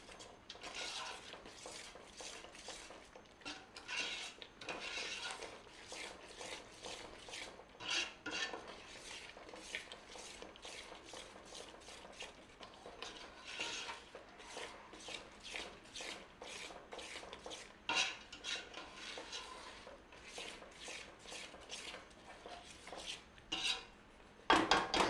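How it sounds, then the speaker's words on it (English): A spoon scrapes and clinks steadily around a pan, stirring homemade vindaloo paste of garlic, oil and spices, with irregular metallic knocks continuing close up and growing louder toward the end. "give that a stir in"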